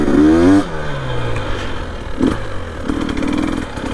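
A 2025 Husqvarna TE300 Heritage Edition dirt bike fitted with an FMF Fatty pipe revs hard and loud, its engine note sweeping up and down in repeated close bursts with no talk.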